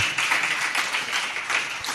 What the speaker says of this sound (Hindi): इस प्रकार आप तालियां बजा करके उन लोगों के उत्साह को और बढ़ा रहे हो